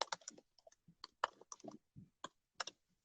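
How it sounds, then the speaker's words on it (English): Someone types a short message on a computer keyboard, producing quiet, close, irregular clicks and key taps in small bursts with brief pauses, with no talking. "I'll just type it into the chat."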